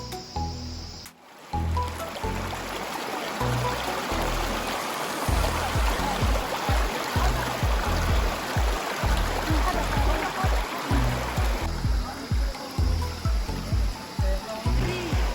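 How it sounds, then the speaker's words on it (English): The Jordan River stream in Shimla, water rushing and splashing steadily nearby for the whole stretch, with irregular bumps and thuds from handling close to the recorder. "Shimla stream."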